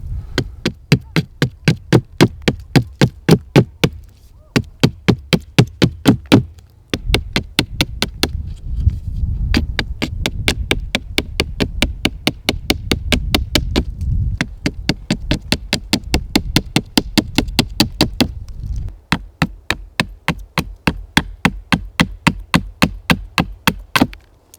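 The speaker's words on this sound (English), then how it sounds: "So now I have this thing pretty roughed out with the hatchet" A hatchet strikes wood over and over while a digging stick is roughed out, sharp rapid knocks in long steady runs with short breaks, close and loud.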